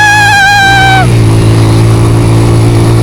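A motorcycle engine runs loud and close while riding, with a rising whine at the start, then a steady droning hum as the bike moves along and rushing wind noise over it.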